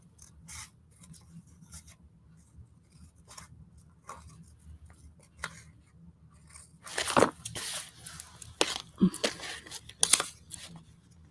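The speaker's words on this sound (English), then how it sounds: "Let's just cut this out and see." Scissors snipping through a paper image for a collage, a run of close crisp cuts and crunches with the densest cutting near the end, over a quiet low hum.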